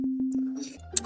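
A synthesized uptempo kick from a stock wavetable synth plugin, a few short tonal thumps in quick succession followed by a brief buzzy hit, close and dry at moderate volume.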